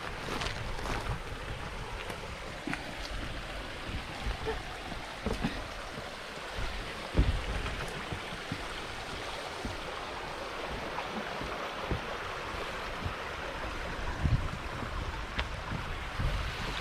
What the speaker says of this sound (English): Nice sound of water flowing over here, where it looks clean